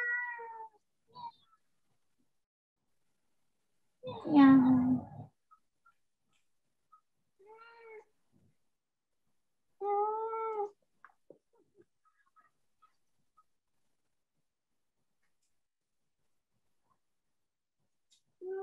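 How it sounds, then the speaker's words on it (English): A cat meows several times, with distinct harmonic calls spaced across quiet gaps and one louder, longer yowl early on, heard close up indoors with a brief spoken word. "Hello, naughty cat."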